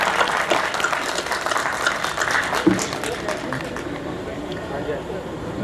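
An audience at a memorial gathering applauds together, a dense patter of many hands that stays loud for several seconds before thinning toward the end.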